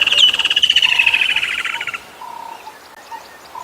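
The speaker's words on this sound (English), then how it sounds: "There's actually 4 or 5 different woodland kingfishers calling to each other at the moment from" Woodland kingfishers call around a dam at sunset on safari, a loud rapid trilling series near the start that fades into quieter, more distant answering calls.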